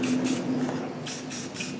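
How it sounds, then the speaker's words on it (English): Aerosol spray spritzed onto the caliper mounting hardware of a Cadillac Escalade front brake job, heard as several short hissing bursts in a quick rhythm, close and clear with no talking. "We're just going to give it a little spritz"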